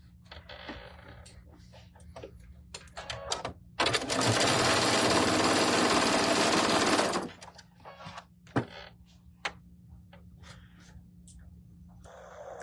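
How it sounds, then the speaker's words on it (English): A sewing machine runs in one continuous burst of about three seconds while joining large quilt block rows for a sampler quilt, with quieter handling noises and faint clicks before and after. "now we're going to sew the big rows together"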